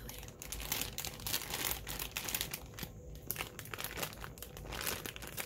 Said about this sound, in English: Now this is going to be really crinkly.